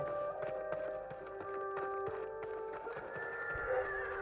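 A horse whinnies over quiet clopping hooves near a stable in the samurai video game Ghost of Tsushima, with faint game ambience behind it.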